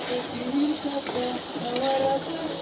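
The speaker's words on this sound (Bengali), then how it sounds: "আমি আজকে ঢেঁড়স দিয়ে ডিম দিয়ে রান্না করছি।" Okra and eggs stir-frying in a pan, with a steady close sizzle and scraping stirs of a spatula against the pan throughout, plus a couple of brief metallic clinks.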